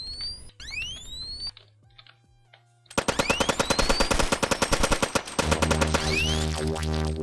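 Rapid machine gun bursts in the zombie shooter Zombie Grinder, loud and dense from about three seconds on, with chirpy game tones and beeps layered over the fire; the opening seconds hold synth sweeps and quieter game noise.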